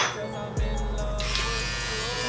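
An electric shaver buzzes to life and runs as a steady, loud close-up drone, with faint clinks and movement before it switches on.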